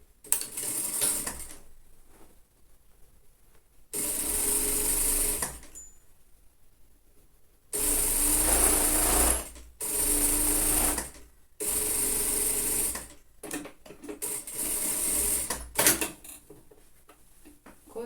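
A sewing machine stitches the straight front seam of a lined child's coat in several bursts of steady whirring, separated by short pauses, close and fairly loud with no talk.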